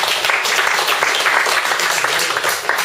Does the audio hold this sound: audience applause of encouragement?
yes